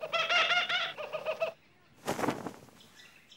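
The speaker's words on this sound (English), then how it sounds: "Peculiar bird." A kookaburra gives a peculiar call, a loud burst of rapid, repeated harmonic notes up close, followed by a sharp rustling flurry and fainter trailing calls.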